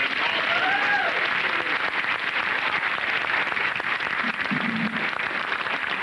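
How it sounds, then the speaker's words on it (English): Sustained audience applause for a school principal at an educational institution, broad and even clapping across the full stretch, with faint tonal sounds and brief voices in the crowd. "Let's give your principal a round of applause."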